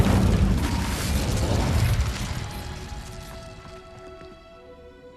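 An Incendio fire spell cast in Hogwarts Legacy bursts out as a loud, broad whoosh and blast that fades over a few seconds into lingering ringing tones.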